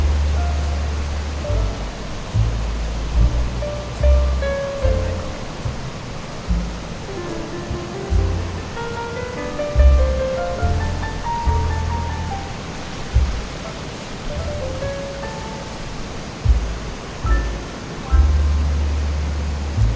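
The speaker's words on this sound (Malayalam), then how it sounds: "നമ്മുടെ ആ വെള്ളം ആർത്തലച്ച് താഴോട്ട് ഒഴുകുന്ന ഒച്ചയാണ് നമ്മൾ കേൾക്കുന്നത്" Waterfall water rushing down at Viripara waterfalls in Munnar, a bathing spot where streams merge into a check-dam-like pool; a steady broadband roar of falling water fills the scene continuously, with low rumbling surges and no talking.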